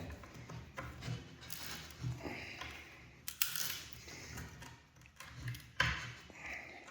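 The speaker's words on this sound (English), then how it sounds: "it's just like a rocking action to lever out the nail" Pincers rock back and forth to lever an old nail out of wood, giving faint creaks and scraping clicks of metal against timber, with a couple of sharper squeaky pops as the nail shifts.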